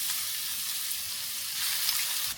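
Three spoonfuls of minced garlic sizzle in cooking oil in a hot pan over medium heat, a steady close crackling hiss that continues without talking.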